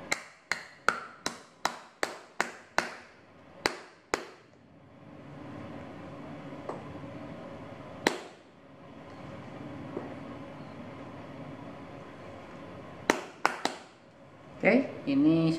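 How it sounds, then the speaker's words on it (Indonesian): Sharp hammer taps on a 3 cm high sandal heel during shoemaking, a quick run of about eight close, loud knocks, then a pause with faint background and a few more strikes near the end. "ini kita ketok pakai palu ya"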